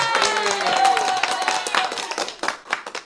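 Clapping welcomes guest Agam Harimurti onto a talk show stage, a burst of hands mixed with voices and cheering, thinning into scattered individual claps toward the end.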